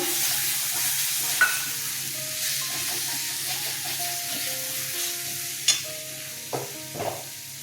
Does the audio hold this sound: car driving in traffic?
no